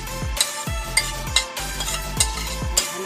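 Pork, carrots, potatoes and chayote being stirred and mixed for a shanghai-style rolled veggie filling, with steady scraping and sizzling broken by several sharp clinks of the utensil against the pan.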